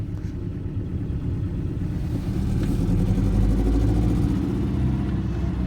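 A 1985 Toyota MR2 AW11 moving along in second gear, its engine giving a steady, fairly loud low rumble close by that swells a little midway and holds, with no voices.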